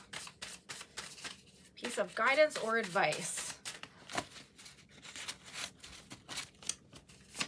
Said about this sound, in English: Shuffling is not happening super well today. These cards usually shuffle very well.